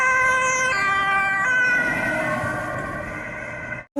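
A toy police bus plays an electronic siren, a close, steady run of stepped warbling tones that shift pitch every second or so before cutting off abruptly near the end.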